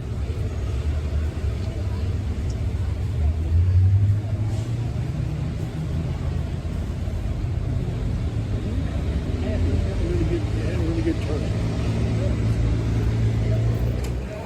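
Rumbling hot rod engine with a gear drive, a 1978 blown big block, idling steadily and loud at a local hot rod open house, a low continuous drone with people talking over it.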